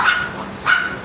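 Dogs for sale at a pet center in Pasay City, Metro Manila, give two sharp, loud barks roughly half a second apart over busy indoor background noise.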